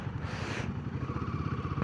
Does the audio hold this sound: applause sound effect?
no